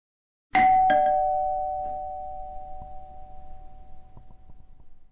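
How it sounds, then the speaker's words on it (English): A two-tone doorbell chime rings once, close and clear, its second note ringing out and slowly fading over several seconds. "She knocked and then rang the doorbell when nobody answered."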